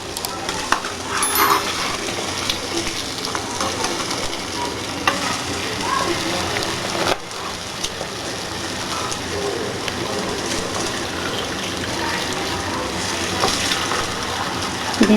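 Bondas made from idli batter fry in hot oil, a steady, loud, crackling sizzle that runs on continuously, broken by a few light metallic clinks and stirring sounds close by.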